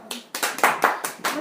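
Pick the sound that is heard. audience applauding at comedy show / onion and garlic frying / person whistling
audience applauding at comedy show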